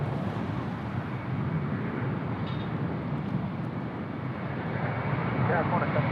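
A Jetstar airliner departing Sydney Airport, its engines a steady, broad roar held at even loudness throughout, with no talk over it.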